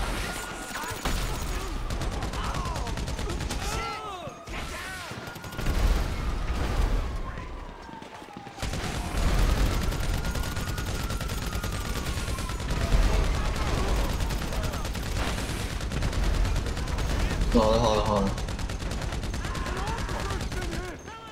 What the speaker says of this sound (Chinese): 我先轰一下前面的